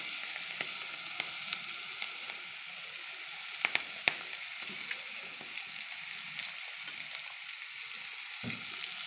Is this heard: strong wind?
no